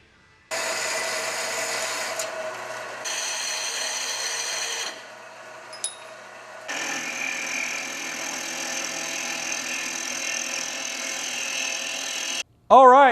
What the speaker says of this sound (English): I cleaned it up with an abrasive wheel on a Dremel, and then I also cleaned the sides up with a belt sander.